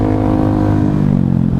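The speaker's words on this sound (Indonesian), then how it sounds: "motor berisik lagi" Loud motorcycle engine droning close by with a rough, pulsing rumble that fades slightly as it passes, filling the whole short moment.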